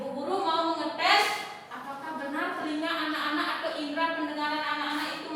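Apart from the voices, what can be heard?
No everyday noises stand out.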